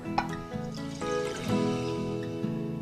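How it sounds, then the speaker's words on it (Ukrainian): Broth pours and trickles into a frying pan at close range, a soft continuous splashing with faint clinks, no talking. "На сковорідку без залишки вершкового масла вливаємо бульйон"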